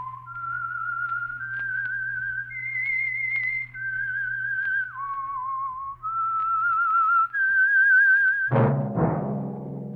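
A clear whistled melody of sustained, slightly wavering notes stepping up and down, ending with a sudden low musical chord.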